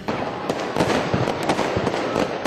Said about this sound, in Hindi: दिवाली की जगमगाती रात, दिए की रोशनी और फिर जमकर आतिशबाजी।